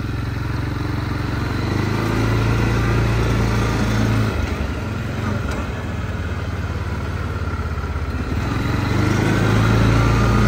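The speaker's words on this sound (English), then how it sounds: "let's do this top speed run. I'm gonna go ahead and put it in high gear" A Linhai 550 ATV in high gear on a long straight during a top speed run, its engine droning loudly and steadily throughout with a continuous low rumble and wind noise, no talking.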